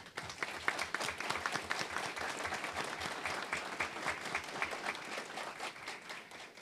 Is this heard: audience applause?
yes